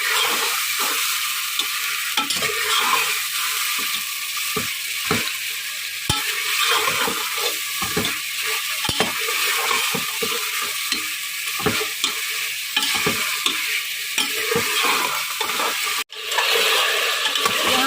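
Beef fries in a pan for haleem with a loud, continuous sizzling hiss. Frequent scraping and clicking strokes from a stirring utensil run through the sizzle, and a sharp knock comes near the end.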